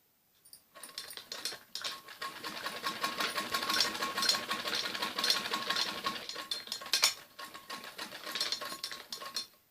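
A sewing machine runs in bursts as it stitches piping onto the neckline of a kameez, its fast mechanical chatter stopping and starting at close range with no talking.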